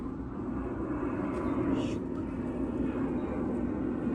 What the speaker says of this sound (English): hold on, there's an airplane passing